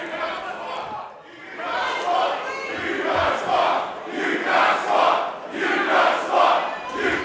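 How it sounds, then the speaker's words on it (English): A live wrestling crowd at an MCW event chants in unison, loud rhythmic swells of many voices repeating a short phrase again and again, rising and falling with each beat. "Crowd chanting, you can't squat"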